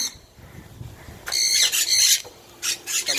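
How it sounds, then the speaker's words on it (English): Several parrots at an exotic animal ranch squawk loudly in harsh, shrill bursts, two long outbursts followed by a shorter one, close by with no talking. "Area right here is a little loud. I have a bunch of parrots over here"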